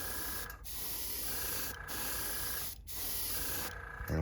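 Close, steady airbrush hiss blowing air across a freshly painted deep-diving fishing lure, running in several long bursts separated by brief pauses.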